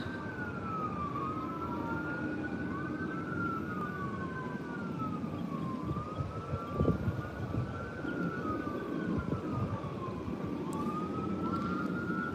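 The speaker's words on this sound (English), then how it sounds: "Ambulance." An ambulance siren wails in a continuous rising and falling pattern from some distance, steady and moderately loud over outdoor background noise, with no talking.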